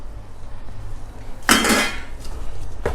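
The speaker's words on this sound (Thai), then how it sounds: "เอากล้วยใส่ลงไปนะเพื่อนๆใส่แบบนี้เลยก็ได้นะ" Bananas dropped into a cooking pot for a Thai coconut-milk dessert, giving a single loud clatter and rattle of fruit against metal, followed by a brief second knock near the end; no talking.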